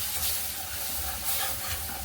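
Besan (gram flour) being stirred with milk in a pan for laddu, the gas just switched off: a steady, close scraping and stirring texture with a soft sizzling hiss underneath, continuous with slight swells.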